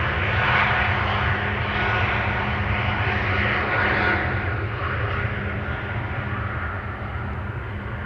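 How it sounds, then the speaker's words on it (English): Jet airliners taking off at Amsterdam Schiphol Airport, a steady, loud, broad engine roar with deep low rumble that swells slightly and then eases, continuous for the whole stretch with no talking. "Are you hearing the airplanes taking off properly?"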